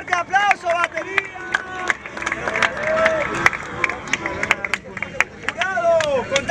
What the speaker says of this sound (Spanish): ¡Fuerte aplauso, batería!